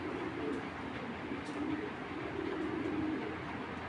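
A racing pigeon cooing softly in a loft, low repeated coos rising and falling in a gentle rhythm over faint background hiss, with no speech.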